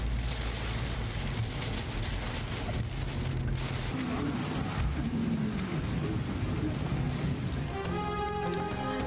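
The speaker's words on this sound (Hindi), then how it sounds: "कराची में एक बार फिर बारिश शुरू।" Steady rain pours over Karachi in a dense, continuous hiss of drops hitting surfaces, close and loud without a break, with no one speaking.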